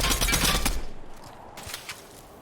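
A loud burst of rapid gunfire from the video game Fortnite, dense shots fading out after about a second, followed by a few fainter distant pops.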